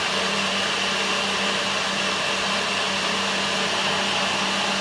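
A blender whirs steadily at full speed, mixing a vegan banana and almond butter protein smoothie, with a constant loud motor drone and no pauses.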